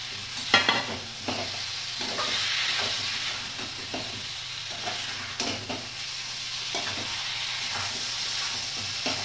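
Potatoes go into a frying pan with chicken and are stirred, a steady close sizzle and hiss running throughout, broken by scraping spatula clatters and a few sharper knocks near the start.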